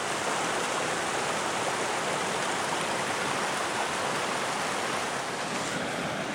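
A creek near the Black Bluff gold mines rushes continuously and loudly nearby, a dense steady wash of noise with no pauses.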